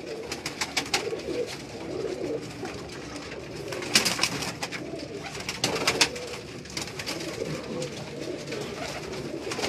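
Pigeons coo repeatedly on a Karachi rooftop, soft rounded calls overlapping close by, with flutters and scattered sharper clicks and flaps over a steady outdoor background.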